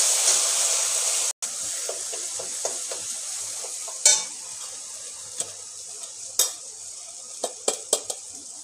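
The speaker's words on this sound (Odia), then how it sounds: "ଏଠି ଦେଖନ୍ତୁ ½ ଚାମଚ 5 ଫୁଟଣ ପକେଇଦେଲି। ତାପରେ ଯେଉଁ ସୋରିଷ ବାଦାମ ବାଟିଥିଲେ ତାକୁ ପକେଇଦେବା।" Panch phoron and ground mustard paste frying in a pan for a simba rai dish made without onion or garlic, a steady close sizzle broken by intermittent scraping stirs and a few sharp clinks, with no talking.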